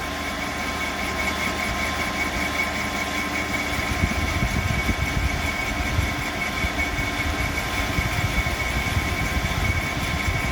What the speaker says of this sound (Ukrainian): Обточується різьба, готуємо під сварку.